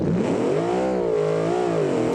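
A supercharged truck engine, a Fjord Emerald, revs loudly and close by in a sustained, rising-and-falling roar with a steady harmonic drone, heard alone without voices.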